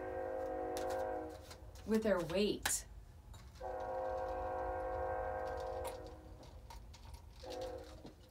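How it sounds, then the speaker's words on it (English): A train rolls by nearby with a sustained tonal horn sounding in long stretches, while a person speaks briefly over the passing noise. "Let this train go by."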